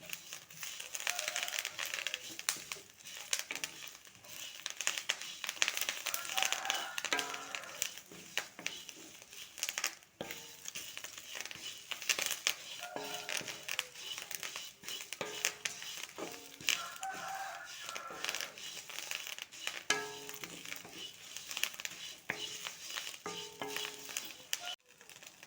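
Horse gram and curry leaves dry-roasting in a pan, heard as continuous dry crackling and rustling with repeated stirring scrapes throughout, moderately close and without talk.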